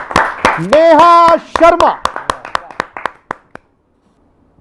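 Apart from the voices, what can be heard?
audience applause at a poetry gathering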